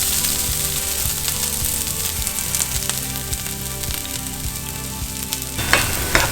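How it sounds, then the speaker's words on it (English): Shallots sizzle loudly in smoking-hot olive oil in a pan, a dense continuous crackle with rhythmic stirring knocks, close up and without talk. "I have some olive oil in my pan smoking"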